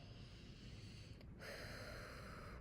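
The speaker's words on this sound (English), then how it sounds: "do a little expressive breathing" A person exhales in expressive breathing, one sharp breath that turns into a stronger, sustained airy rush midway and is heard close and alone.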